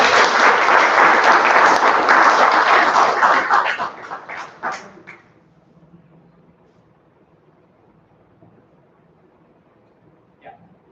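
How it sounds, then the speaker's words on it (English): Loud, dense audience applause at a Toastmasters club meeting fills the opening seconds, then tapers off with a few scattered final claps, leaving quiet room tone with a faint click near the end. "can we have a huge round of applause for Toastmasters?"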